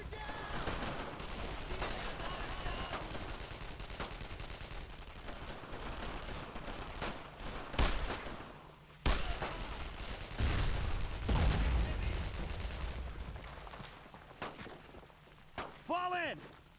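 Sustained World War II gunfire in the shooter Brothers in Arms: Road to Hill 30, dense rifle and machine-gun bursts with heavy booming impacts, loud and continuous, while soldiers shout orders over it.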